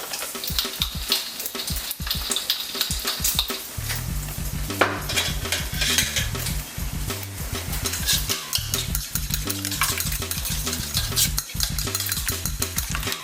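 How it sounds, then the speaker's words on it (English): Eggs beaten with black pepper in a bowl for carbonara: a close, rapid, rhythmic clatter of a utensil against the bowl, continuing busily throughout with no talking. "We beat the eggs, and we add some black pepper."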